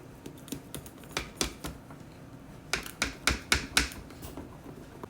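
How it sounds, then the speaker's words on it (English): Pizza cutter rolling through dough to cut it into strips, heard as a run of quick, crisp clicking taps in two bursts, close and fairly quiet with no talking. "Get you a pizza cutter."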